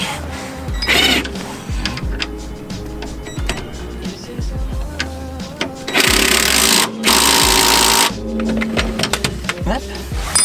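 Power tool driving a bolt while refitting a coilover shock on a 1988–2000 Honda Civic suspension, giving two loud sustained bursts of whirring, the longer one near the end, amid clanks and someone talking.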